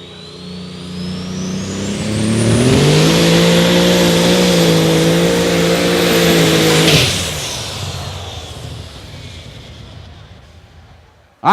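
The outlaw pulling tractor Voodoo roars as it pulls away from the sled at a Rock Valley Friday night pull, rising into a loud, sustained high-revving howl for several seconds, then dropping away as it drives off.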